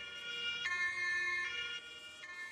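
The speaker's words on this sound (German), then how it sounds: "Das ist das richtige Martinshorn für ein ELW, für ein MTF oder sonstigen Fahrzeuge auf diesem Fahrgestell." German Martinshorn siren on a fire service command vehicle, a loud two-tone wail that alternates pitch in a steady pattern.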